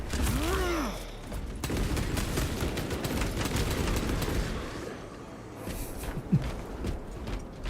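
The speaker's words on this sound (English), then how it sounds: "Trading shots." Gunfire exchange in the Space Marine 2 video game: a steady barrage of rapid, overlapping shots and thuds under the game's mix, moderately loud and continuous, with one sharper report near the end.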